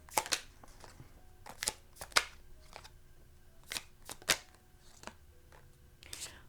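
Tarot cards being shuffled by hand for a reading, heard as quiet, irregular bursts of crisp card riffles and slaps separated by short pauses, close up and soft.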